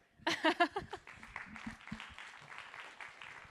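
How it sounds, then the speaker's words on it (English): At a tech conference in Berlin, an audience welcomes a speaker with a few loud, close claps that quickly thin into scattered lighter clapping, mixed with chuckles and murmuring voices. "let's give a really, really energetic applause to Savio"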